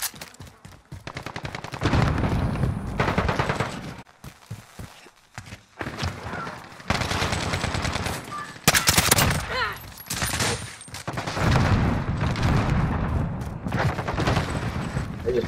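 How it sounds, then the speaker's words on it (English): Heavy automatic gunfire in a Call of Duty: Modern Warfare multiplayer match, long loud bursts with short pauses and scattered single shots through most of the stretch, some faint talk mixed in. "Oh, shooting from the top."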